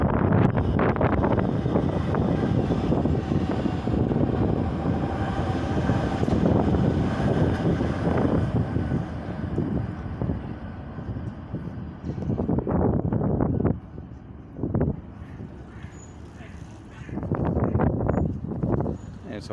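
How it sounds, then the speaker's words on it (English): Strong gusts of wind buffet the microphone outdoors above the Danube River in Bratislava, a rough continuous roar that drops briefly and then surges back. "And it's always windy above the water."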